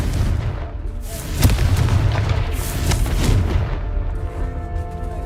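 Confringo fire-blast spells in the Hogwarts Legacy video game go off as loud, booming explosive bursts, two sharp cracks with rumbling tails over a continuous low battle din.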